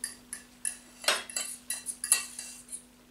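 Spoon scraping and clinking against a small pot while serving a mallow dish, a series of close, sharp metallic taps and scrapes in an irregular rhythm, with no talk.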